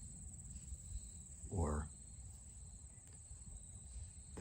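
Crickets chirp outdoors as a faint, steady high-pitched buzz behind a quiet scene among grass and trees, with a brief soft swish or step partway through and a little speech.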